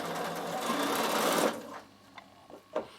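A Bernina sewing machine runs a steady straight stitch through polar fleece, a dense continuous whir lasting about a second and a half, then stopping and leaving a few faint clicks and handling noises.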